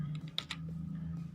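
Keys on a computer keyboard are pressed in a few quick, crisp clicks, typing the letter V as a shortcut, faint and close with a quiet hum behind.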